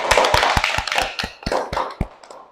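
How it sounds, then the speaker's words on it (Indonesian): A small group of students in a classroom claps for a presenting group, a sparse series of distinct close hand claps at an uneven rhythm that stops after about two seconds. "beri tepuk tangan untuk kelompok 1"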